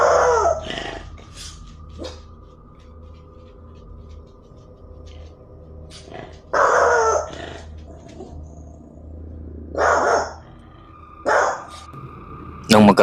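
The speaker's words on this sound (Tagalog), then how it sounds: "muling nagtatatahol ang binabantayan nitong aso sa hallway" A dog barks in a hallway at night, giving a few loud, separated bursts of barking between stretches of quiet over a steady low hum.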